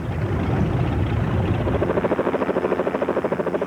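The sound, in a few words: helicopter in a flight simulator video game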